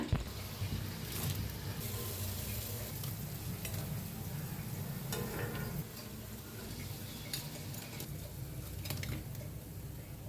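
Long green chillies slit down the middle, frying in oil with a soft continuous sizzle, scattered crackles and ticking pops, and occasional stirring noises, without talking.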